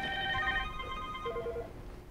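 An office softphone and a cell phone ringing with an incoming call on a Mitel phone system, with a steady electronic ringtone tone pattern that shifts partway through, fairly quiet and with no talking.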